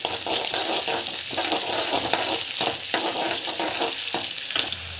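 Curry leaves, onion, green chili and chana dal stir-fry in a hot pan with a steady, loud sizzle, broken by repeated scraping strokes of a stirring spoon throughout.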